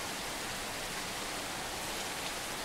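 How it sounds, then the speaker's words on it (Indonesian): Heavy rain pours outside at night in a deer-hunting video game, a dense, unbroken hiss that stays even and fairly quiet throughout. "Kita bangun di tengah malam dengan hujan yang deras di luar."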